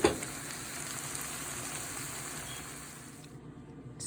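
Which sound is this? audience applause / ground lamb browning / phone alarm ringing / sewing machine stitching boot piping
ground lamb browning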